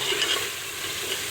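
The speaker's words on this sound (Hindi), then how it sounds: "अब हम शामिल करने वाले हैं ज़ीरा जो है वो मैंने 1 चम्मच ले लिया और इसको शामिल कर दिया।" Cumin seeds sizzling in hot oil for aloo gobhi, a brief, close, continuous frying crackle and hiss with no voices.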